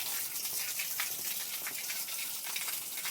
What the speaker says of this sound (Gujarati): મતલબ કે પાણી અહીંથી 24 કલાક અને 12 માસ આ વહેતું રહે છે